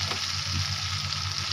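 Chopped garlic sizzles in a pan for white sauce pasta, a bright, steady hiss heard up close with a soft stir or two and no talking.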